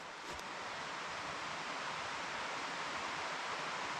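A forest river rushes nearby as a steady broadband roar, continuous and unchanging throughout with no voices over it.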